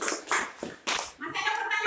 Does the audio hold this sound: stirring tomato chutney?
no